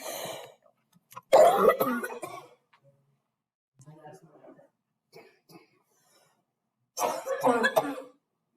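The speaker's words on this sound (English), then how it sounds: "I don't start coughing until I start talking." Someone coughs in a couple of harsh bursts, then murmurs quietly, and coughs again near the end.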